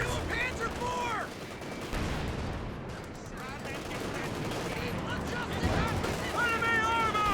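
Bursts of MG42 machine gun fire and other gunfire crackle in Company of Heroes 2 battle, rapid rattling volleys mixed with explosions while in-game voices shout over the din.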